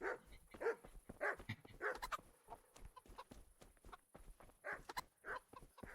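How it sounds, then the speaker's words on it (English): Guard dogs in the medieval game Kingdom Come: Deliverance barking loudly in sharp, repeated bursts close by, with hens clucking among the barks. "But damn, those dogs are fucking loud."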